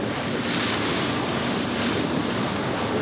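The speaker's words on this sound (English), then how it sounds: "All right, we got a really windy day." Strong wind of about 25 knots roaring over a sailboat at sea, a loud constant rush of gusting air buffeting the microphone with wash of waves beneath, with no talking.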